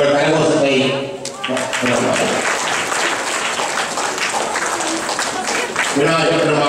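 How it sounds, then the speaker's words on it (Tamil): An audience applauds at the Mango Festival day of the Sri Varasiththi Vinaayagar Brahmotsavam temple festival as teachers are honoured. A voice comes first, then dense, sustained clapping fills the rest. "உங்கள் கரகோஷத்தை"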